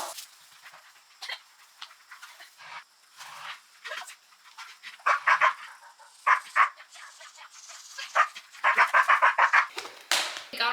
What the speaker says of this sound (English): We got our zoomies out, Banjo and Ruby.